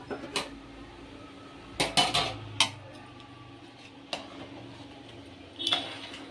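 Metal plates and cutlery clatter in a kitchen as a plate is taken off a pot of chicken biryani: a few sharp, close clinks and knocks spaced unevenly, with a quieter clink near the end.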